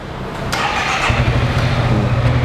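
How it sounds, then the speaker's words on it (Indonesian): A motor scooter engine cranks and catches, then settles into a steady, close idle with a low, throbbing rumble. "Sekarang kita nyalain motornya."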